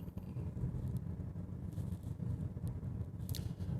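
A Honda Accord coasts under engine braking while driving, a low steady engine and road rumble heard from inside the cabin, continuous and fairly even, with no talk.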